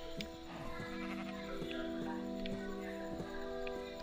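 Several Minecraft sheep bleat in short overlapping calls against a faint steady tonal backdrop, with light ticking sounds between them.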